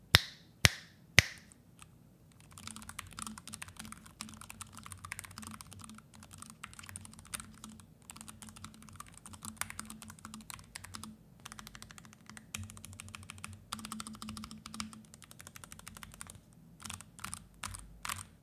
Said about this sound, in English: A keyboard review is not a keyboard review without a sound test